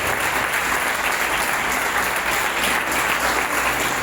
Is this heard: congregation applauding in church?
yes